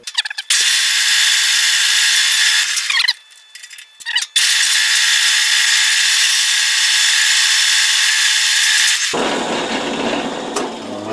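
A half-inch drill bit bores holes through metal hinge parts. A loud, sustained grinding whine runs for several seconds, stops briefly, then resumes longer before easing to a quieter rumble at the end.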